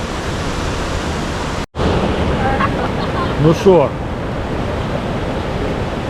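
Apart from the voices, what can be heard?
stormy sea waves on the shore at Galveston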